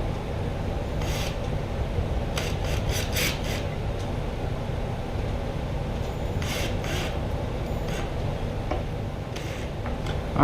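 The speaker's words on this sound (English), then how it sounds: "I'm going to go over them with a screwdriver just to make sure they're all snug." A screwdriver snugs the small screws on the tuners of a ukulele kit, making steady scraping and rasping with brief gritty bursts of turning, close and continuous.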